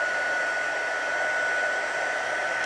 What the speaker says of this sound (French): le fait de chauffer avec le pistolet chauffant fait chauffer justement la